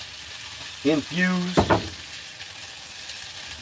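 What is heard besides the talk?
food frying in homemade bacon grease in a hot pan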